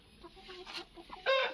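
Several chickens for sale, including kaki and pala dega fowl, give scattered soft clucks with a louder burst near the end, close by and with no talk.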